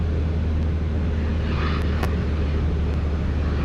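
Steady, loud engine drone from a Socata TB10 light aircraft in flight as power is reduced, a continuous low hum filling the cabin with no speech over it.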